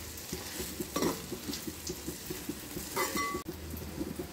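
Okra frying in oil with roasted ground masala, a close steady sizzle broken by soft rhythmic stirring scrapes and a couple of light utensil knocks against the pan.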